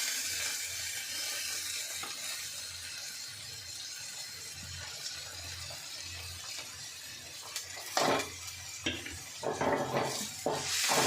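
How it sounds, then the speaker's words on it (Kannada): Chopped onion, ginger and garlic fry in a pan with paste while being stirred for fried rice, a steady sizzle running throughout, with louder scraping and stirring bursts near the end and no talk. "ಒಂದು ಸ್ವಲ್ಪ ಇದು ಕಲರ್ ಚೇಂಜ್ ಆಗೋವರೆಗೂ ಲೈಟಾಗಿ ಫ್ರೈ ಮಾಡ್ಕೋಬೇಕು"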